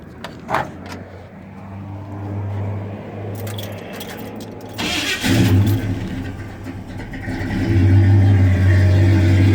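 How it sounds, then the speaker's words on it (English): A 350 crate V8 engine with a chrome-tipped exhaust cranks and catches, then rumbles at idle before revving up louder and deeper, close and alone. "let me crank it up for you so you can actually get a feel of the engine"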